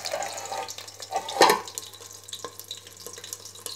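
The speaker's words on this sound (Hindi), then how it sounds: "कवर करने के बाद हमने ढक्कन के ऊपर थोड़ा सा इस तरह से पानी है वो डाल देना है, सिर्फ 2 से 3 चम्मच।" Spoonfuls of water are poured onto a covered pan lid while stuffed green chillies cook on a low flame, giving a few splashy trickles and one sharp sizzling splash, fairly close and faint.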